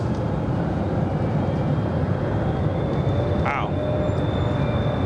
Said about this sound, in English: Big 777 flying in from Hong Kong.